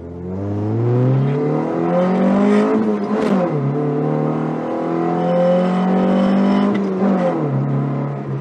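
A Honda Civic Ferio's D-Series engine revving hard with a loud intake roar, rising and falling through several throttle blips, steady and close.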